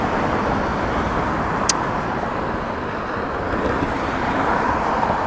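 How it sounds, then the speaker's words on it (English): Steady road traffic rumbles past a bicycle commuter stopped at night, a continuous broadband wash of passing cars with some wind buffeting the microphone and a brief sharp click partway through. "Gosh, this traffic."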